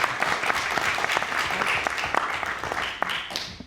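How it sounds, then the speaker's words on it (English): An audience at an award ceremony for journalists applauds steadily, a dense wash of many hands clapping at moderate loudness that holds throughout without pause. "Perhaps we start with a small applause from Berlin to you."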